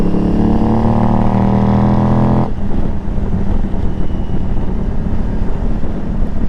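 Aprilia Tuareg motorcycle engine held at high RPM, a loud, close, sustained roar that drops abruptly midway into rougher, wind-buffeted engine noise.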